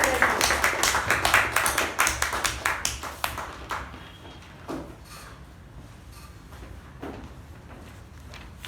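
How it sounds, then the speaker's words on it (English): Toastmasters meeting audience applauding a new president, a few people clapping briskly for about three seconds before the claps thin out to scattered taps and a quiet room. "Toastmasters and guests with a galvanizing round of applause"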